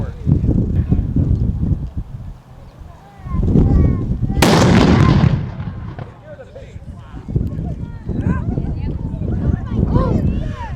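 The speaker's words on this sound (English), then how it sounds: "All that from such a tiny little cannon." A small black-powder cannon fires once during a Fort Niagara historical demonstration, a sharp loud boom with a rumbling tail, with crowd chatter and a presenter talking before and after the shot.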